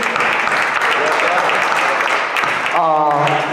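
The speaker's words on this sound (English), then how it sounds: "So Joe, we applaud you." Audience applause at Roland Joe Smith's 85th birthday celebration, loud and close, a dense clapping wash that gives way at the end to a sustained tonal sound.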